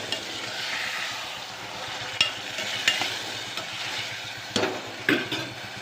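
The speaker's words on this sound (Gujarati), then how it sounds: "મસ્ત મજાનો તુવેરના દાણાનો વઘાર થઈ ગયો છે." Pigeon peas sizzling in a hot tempering with tomatoes while being stirred, a steady frying hiss punctuated by several sharp scraping clicks of the spoon against the pan.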